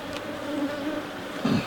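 Honeybees buzzing in an opened hive, a close, steady droning hum with a brief louder swell near the end as bees move past.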